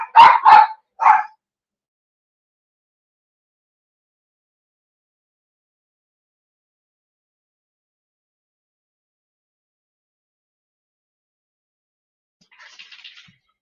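A dog indoors lets out three quick, sharp barks in a burst, then long silence, with a faint distant sound near the end.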